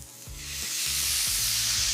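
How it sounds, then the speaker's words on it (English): A steak hits olive oil in a smoking-hot pan, and a bright sizzle swells into a steady loud hiss, with a few soft low thuds underneath. "Oh, that sizzle, that's pure music."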